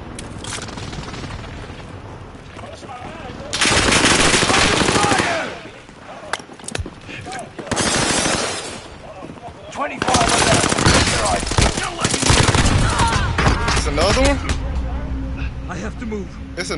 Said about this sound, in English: Damn, I ain't mean to start shooting.